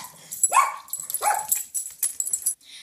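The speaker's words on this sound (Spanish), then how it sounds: "También los perros están de acuerdo conmigo. Siempre ladran cuando caminas en el cuarto." Dogs bark and yip in a domestic skit, several sharp close barks in quick succession at fairly high pitch, loud and alone with no talk over them.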